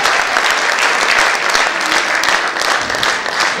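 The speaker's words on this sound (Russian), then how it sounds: "А Юнус, аплодисменты, молодец!" Concert audience applauding at a holiday show, steady dense clapping close and loud throughout, with no talking over it.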